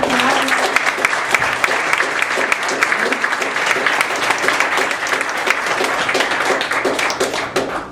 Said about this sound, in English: A big round of applause for Larry today.